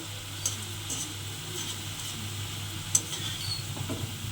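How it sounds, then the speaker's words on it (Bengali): Drops of bonde batter, a sweet gram-flour snack, frying in hot oil in a home kitchen, giving a steady soft sizzle with a few sharp clicks and a low background hum, with no voices. "এইভাবে ব্যাটারটা দিয়ে আমি কিন্তু খুব সহজেই বোঁদেগুলো এইভাবে ভেজে নিতে হবে"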